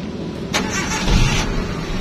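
Starter cranking and catch of a red Suzuki Sidekick's engine, brief broadband burst settling into a steady idle rumble, loud and close with no talking.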